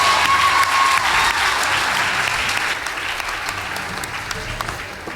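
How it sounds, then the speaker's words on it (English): Audience applause for two school debate teams, Loreto Limuru and Makueni Boys, fills the hall as steady, dense clapping that starts loud and eases slightly toward the end. "Please give them a round of applause"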